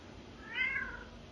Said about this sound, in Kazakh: Мысық екен, жақсы.